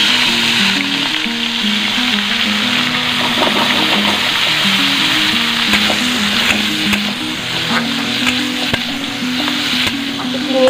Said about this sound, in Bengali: তো সবার আগে চিংড়ি মাছটাই ভেজে নেব।